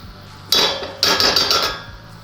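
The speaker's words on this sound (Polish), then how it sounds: "Ja wrzucę jeden ząbek, ale go zetrę" A garlic clove rasped against a metal cheese grater: one short scraping stroke, then a quick run of several more, close and crisp with no talking.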